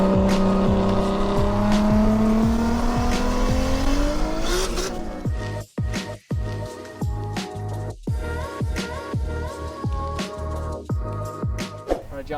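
A 1988 Nissan Cefiro A31's engine hums steadily and rises in pitch, then drops into a choppy rhythm of sharp revs and bursts for the rest of the stretch, loud and near.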